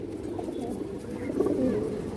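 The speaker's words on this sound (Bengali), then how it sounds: "পুরোনো লাইনে খাকি কবুতর দর্শক এই যে চোখ দেখেন" Khaki pigeons of an old breed line cooing nearby, a low, soft, rolling coo with a brief rising warble, alongside faint background murmur.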